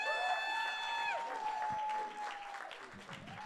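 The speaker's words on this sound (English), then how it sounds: "Give her a round of applause, everybody." An audience at an evening event breaks into loud, sustained clapping close by, with a ringing musical tone sounding over the applause near the start.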